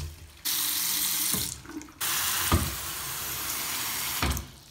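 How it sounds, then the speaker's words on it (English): Household faucets run with both hot and cold water on while a GE reverse osmosis system is purged, giving a loud steady rush that starts, briefly drops as the taps are adjusted, then resumes at full flow, with no voices. "water coming on, both hot and cold"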